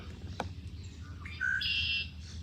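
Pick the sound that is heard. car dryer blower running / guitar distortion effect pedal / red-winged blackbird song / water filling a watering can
red-winged blackbird song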